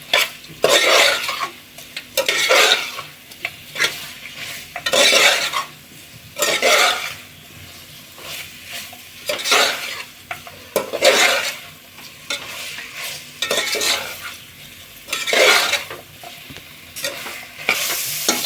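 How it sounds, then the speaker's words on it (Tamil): Mutton sautéing in biryani masala in a pan, loud close sizzling that swells in rhythmic bursts as it is stirred, with metal utensil scrapes against the pan repeating every couple of seconds. "மட்டன் நல்லா மசாலாவில் வதங்கிருச்சுங்க. கிட்டத்தட்ட 2 நிமிஷம் கைவிடாமல் வதக்கியிருக்கேன்."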